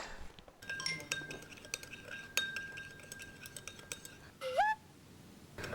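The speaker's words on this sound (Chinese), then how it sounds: "咱把那盖子盖上呗" A lid set onto a hotpot at a dining table, with clinks of metal and ceramic and cutlery taps scattered through, close and moderately loud, plus a brief whine near the end and soft voices.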